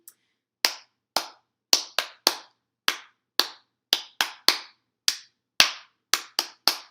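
Group clapping along to a song at a baby storytime, sharp separate claps in an uneven rhythm, about fifteen over several seconds, fairly close with no talk over them.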